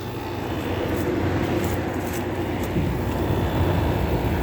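A garage air conditioner compressor runs at the end of the season with a loud, steady, rumbling whir close by, continuous throughout with no voices.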